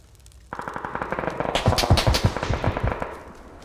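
Rapid automatic gunfire in the online shooter PUBG, with dense bursts of close, sharp shots starting abruptly and rattling on for about three seconds before tapering off.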